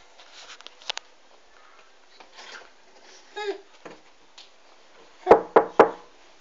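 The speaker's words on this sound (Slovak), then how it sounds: "Ale musíte na to zaklopať." Knocking on a door at home, three sharp raps near the end following quieter rustling and handling sounds.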